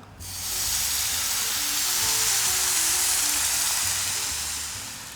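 Broth poured into a hot pan of tomato couscous, bursting into a loud, steady sizzle and hiss that holds for several seconds before easing slightly, with no voices.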